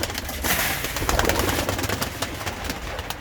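Pigeons coo at a busy Turkish bird market, their soft calls blending into a steady, loud crowd wash of chatter and movement that runs through the whole stretch.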